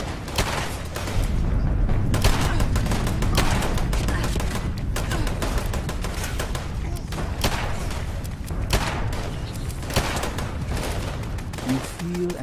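Rapid bursts of gunfire in the video game Fallout 76, dense overlapping shots crackling loudly and almost without pause throughout, with a hit of heavier thuds mixed in.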